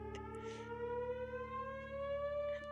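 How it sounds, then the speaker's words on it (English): Wailing civil-defense-style siren in a video game, a steady loud tone slowly rising in pitch across the whole stretch, with a few faint clicks on top. "Why does it have sirens?"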